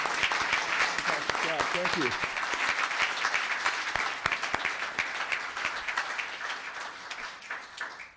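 Sustained applause from a town council meeting audience for a group of young ladies, dense and steady throughout, with a brief spoken thanks partway through.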